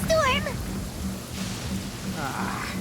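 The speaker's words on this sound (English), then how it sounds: "Uh-oh! Lightning storm!" Rain from a lightning storm in Genshin Impact falls as a steady hiss with a low rumble, while a short animal-like cry sounds at the start and a soft whoosh swells midway.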